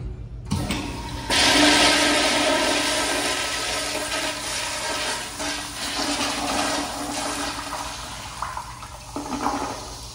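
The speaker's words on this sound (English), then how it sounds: "Epic flush." A vintage Kohler toilet in a waterfront café restroom flushes with a loud, close rush of water that gradually tapers into refilling and gurgling over several seconds.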